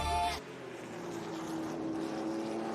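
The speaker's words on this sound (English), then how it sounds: "once again you can hear the roar of engines" Racing car engines drone at Laguna Seca raceway during the Monterey Reunion, a steady, fairly faint humming roar that holds a sustained tone after a brief louder burst at the start.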